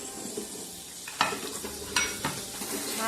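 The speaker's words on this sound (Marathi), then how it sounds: "आता आपण कट केलेले टमाटे पण घालून घेणार आहोत" Chopped tomatoes and garlic sautéing in a pan for egg biryani, a soft continuous sizzle under occasional spoon-against-pan knocks and scraping strokes, close and fairly quiet.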